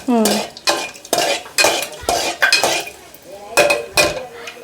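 Cinnamon, cloves and bay leaf frying in hot oil for biryani, heard as loud close stirring scrapes and metal clinks in a pan, repeated in uneven bursts with a faint sizzle beneath.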